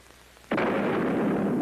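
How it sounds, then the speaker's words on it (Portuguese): A single heavy boom of cannon fire bursts in suddenly and then rolls on as a sustained, loud rumble that fills the rest of the moment, with no voices present. "capaz de ouvir o troar de um canhão"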